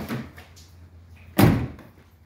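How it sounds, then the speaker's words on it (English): A door swings open in a workshop with a single firm thud and rattle midway, preceded by faint handling sounds. "let's open the door."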